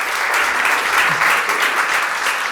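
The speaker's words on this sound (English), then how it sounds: "Big round of applause for them." A conference audience gives a big, dense round of applause, steady and loud throughout, with no talking over it.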